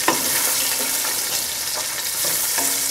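Onions fry in a pan with a dense, steady sizzle that hardly varies, close and loud, broken now and then by faint clicks of stirring.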